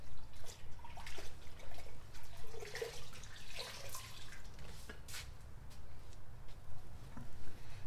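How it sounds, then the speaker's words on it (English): Water from a bucket sloshes and trickles while rinsing out a discada, with soft splashes and dribbling over a low steady background hum, fairly faint and close. "Bucket of water and rinse it out."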